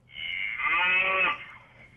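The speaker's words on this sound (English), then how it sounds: "Freaking cow trying to get in my door." A cow trying to get in at a house door lets out one loud, close, sustained moo lasting about a second, alone without talk.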